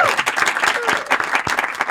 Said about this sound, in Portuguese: Mais uma palma pro David ou não?